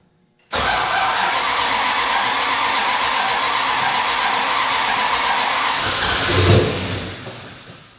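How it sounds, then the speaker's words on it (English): A car engine that has sat unused all winter cranks and catches after a quiet start, then settles into a loud, steady idle close to the microphone with a brief rev near the end, no talking. "This thing's been sitting all winter. Let's see if it'll start up."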